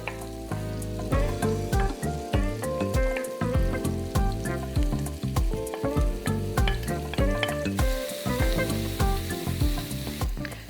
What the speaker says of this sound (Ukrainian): Спершу обсмажуємо цибульку та часник.